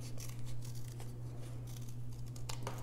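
Scissors snip around a paper shape in short, repeated cuts, close and crisp, with a steady low hum underneath and no talking.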